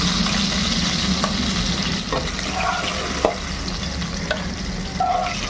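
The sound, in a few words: boal fish sizzling while frying crisp in oil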